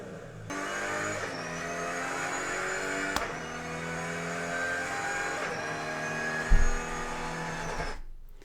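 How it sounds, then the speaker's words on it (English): A Nissan R32 GT-R's RB26 engine drones steadily with a low, throbbing, loping tone as the car drives along the road, shifting pitch slightly, then cuts off near the end. "listen to that RB26 going down the road"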